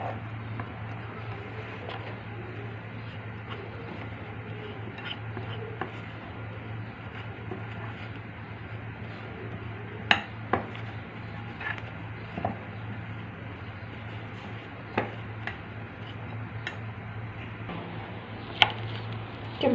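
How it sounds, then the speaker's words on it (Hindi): A spoon stirring rasmalai dough into a dry milk powder mixture, producing faint scattered taps and clicks against the bowl over a low steady hum, with no one speaking. "स्पून जी मदद सां पहिरीं मिक्स था करे वठूं।"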